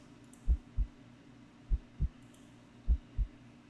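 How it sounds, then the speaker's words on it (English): Heartbeat sound effect in the horror video game Do Not Take The Cat Home, three paired lub-dub thumps, deep and muffled, with a faint hum beneath. "You feel like you can hear your heartbeat."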